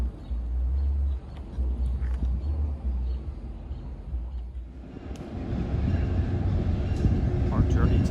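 A Delaware River excursion train rumbles on the rails near Phillipsburg, New Jersey, a low, steady rolling noise that builds louder toward the end.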